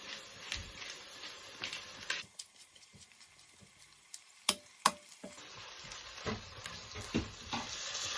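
Soft scraping and stirring as rice is stirred into frying onions in a pan over a faint sizzle, with scattered clicks and taps, some quieter pauses in between.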